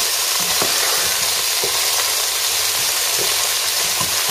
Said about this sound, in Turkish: Ara ara etimizi böyle çevireceğiz. Aynı mühürler gibi.